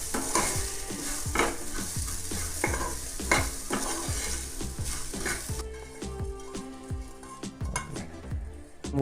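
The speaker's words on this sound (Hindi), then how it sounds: "मूंगफली के दाने फ्राई करेंगे घी में" Peanuts fry in ghee over low heat, with a steady sizzle under repeated scraping strokes of a spoon stirring in the pan, close and clear throughout.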